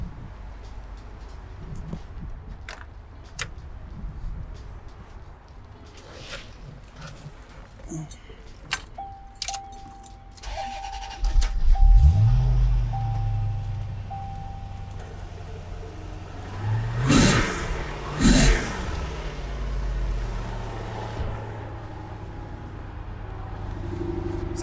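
A 1990 Chevrolet Corvette ZR1 fires up partway through, its engine catching with a loud burst, then settling into a steady idle with a couple of sharp revs; quieter rustling and clicks come before the start.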